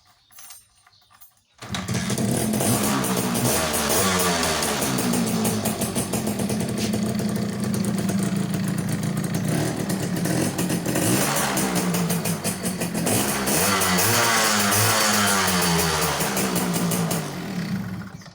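A motorcycle engine running on a burned, previously failed spark plug, starting after a brief quiet lead-in and then idling and revving steadily and loudly, close by, with no talk.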